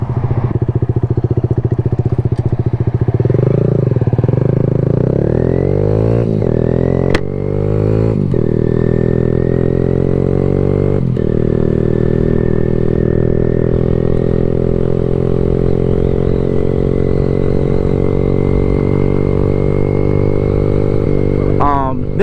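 A Kawasaki Z125 motorcycle runs loud and close throughout while ridden in freezing 25-degree weather, its engine note rising and falling through gear changes and steady cruising, with some clattering bumps mixed in.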